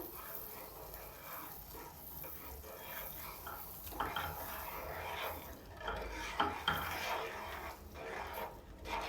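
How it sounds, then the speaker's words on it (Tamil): Semolina and sugar are stirred in a pan over a low flame for rava kesari, giving a quiet, continuous gritty scraping and rasping that grows a little more vigorous partway through. "இது இப்படி நம்ம வந்து லைட்டாக இப்படி கிளறி விட்டுகிட்டே இருக்கணும்"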